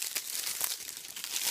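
Plastic film wrap is peeled and crinkled off an Avengers: Infinity War Blu-ray case, a steady close run of crackling and tearing rustles with no voice over it.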